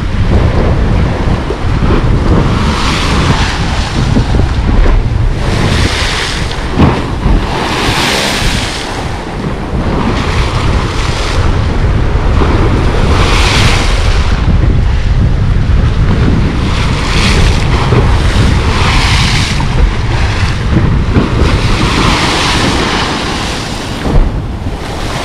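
Big sea waves crash and surge on a beach at Lazarevskoye, a constant loud roar of surf with heavy wind buffeting the microphone throughout.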